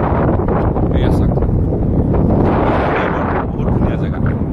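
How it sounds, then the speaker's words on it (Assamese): Strong wind gusts across open watermelon fields on a river sandbar in Assam, a steady loud roar with buffeting on the microphone, continuous throughout. "খুবেই বতাহ আৰু বতাহ ধূলি"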